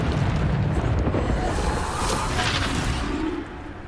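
A Bombarda spell blast in Hogwarts Legacy, a dense roaring explosion with rumbling debris that fills the whole moment and slowly fades, no speech over it.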